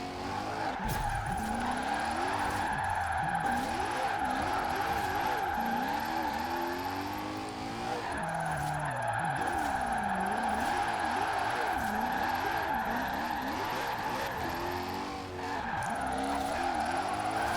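Continuous tire skid and engine drone from a car drifting in the racing game Forza Horizon 4, a high-powered drift-tuned bus with little grip, loud and sustained with brief dips in the squeal.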